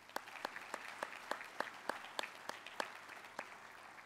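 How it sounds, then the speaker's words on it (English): Sparse applause from a conference audience at CEO Global 2019, a few people clapping in a loose, uneven rhythm, faint and distant throughout. "Please join me in a round of applause"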